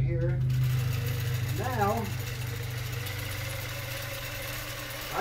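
A quilting machine stitching fabric runs with a steady mechanical hum and rapid needle rhythm, close and continuous, while someone talks over it.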